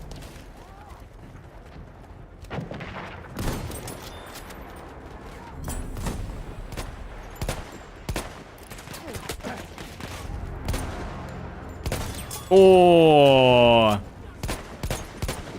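Gunfire in Battlefield, with scattered shots and bursts at varied distances and a spoken exclamation partway through.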